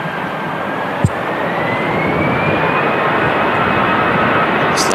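A 12-year-old EasyJet Airbus A320 jet bound for Belfast takes off in windy weather at Manchester Airport, its steady loud engine roar sustained throughout with a rising whine and one brief sharp knock.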